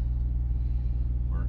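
Low, steady engine rumble from inside a truck cab, a continuous throbbing drone with a faint higher squeak near the end.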